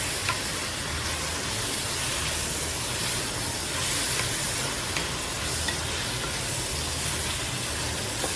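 Sausage frying and stirring in a pan of garlic creamy pasta sauce, a steady close sizzle with scraping stir sounds throughout, no talking.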